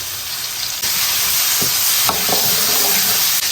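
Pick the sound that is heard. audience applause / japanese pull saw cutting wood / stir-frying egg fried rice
stir-frying egg fried rice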